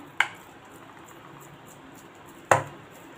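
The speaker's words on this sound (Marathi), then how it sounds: "आणि तो मी डायरेक्ट तव्यावर थापणार आहे" Two soft, damp slaps of sabudana and potato paratha dough being patted by hand onto a griddle, one near the start and one more solid pat about two seconds later, over a quiet room hum.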